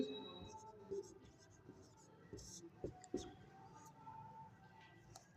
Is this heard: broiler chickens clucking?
no